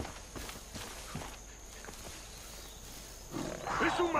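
A big cat companion lunges into an attack in Far Cry 5, quiet footsteps and rustling giving way to a loud, close snarling roar that swells over the last second.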